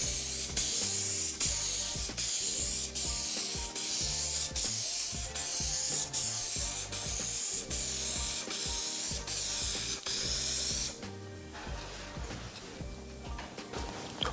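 Aerosol can of FX Intercoat spraying two medium coats onto a middle panel: about a dozen loud hissing bursts in steady rhythm, each with a rattling click, close up, ending in quieter rustling handling noise with no talk.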